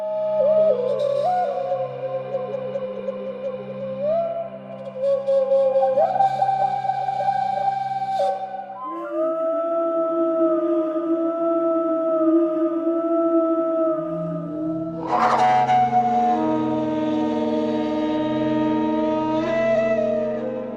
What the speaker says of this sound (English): This is a really cool sound design instrument, sampling flutes of Native America.